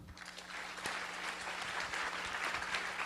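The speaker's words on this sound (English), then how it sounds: "let's give Michelle a round of applause." A conference audience at the 2022 North American Taiwanese tech annual meeting gives a warm, steady round of applause as a guest speaker is introduced. The clapping is continuous and fairly loud throughout.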